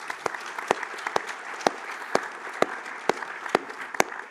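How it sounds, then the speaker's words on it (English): A conference audience at a main-stage session claps in sparse, scattered bursts, with about ten distinct sharp claps standing out over a soft crowd murmur rather than a full, dense ovation. "So please give her a huge applause"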